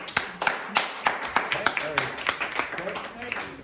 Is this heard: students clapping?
yes